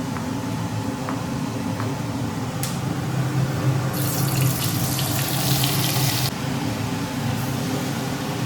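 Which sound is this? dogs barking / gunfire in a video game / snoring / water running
water running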